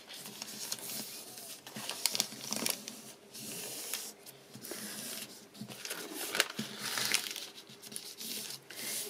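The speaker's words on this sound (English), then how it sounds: "I'm going to do it folding it one way and then fold it back the other way" A paper bag is folded one way and then back the other. The paper crinkles and rustles in repeated soft bursts with brief pauses between handling motions, close and quiet, with no talking.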